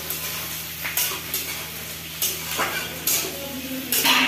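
Capsicum and lightly browned onion sizzle in a pan while being cooked for chow mein, with a steady frying hiss broken by repeated scrapes and clinks of a spoon stirring against the metal.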